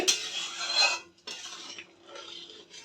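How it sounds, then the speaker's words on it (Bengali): A lid lifted off a pot of boiling rohu fish curry, heard as a close metallic scrape and clink followed by softer rattling and bubbling, quiet and brief. "এবার আমি ঢাকনা তুলে দেখে নেব"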